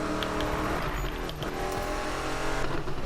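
Ken Block's heavily modified, rebuilt Mustang in a racing video game, its engine roaring steadily and loudly throughout with slight rises in pitch as it revs.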